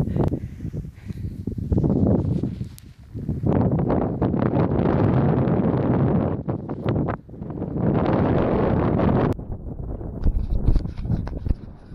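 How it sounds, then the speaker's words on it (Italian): Strong gusting wind on a mountain ridge during a ski-touring ascent of Bec Costazza buffets the microphone in broad roaring bursts, easing briefly between gusts, with faint crunching steps underneath. "Qui c'è un po' di vento, comincia."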